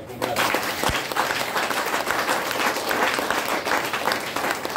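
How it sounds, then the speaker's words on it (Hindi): A seminar audience in a hall claps loudly, a dense sustained wash of applause lasting the whole stretch with steady volume and no talk over it. "ताली मारी जोरदार।"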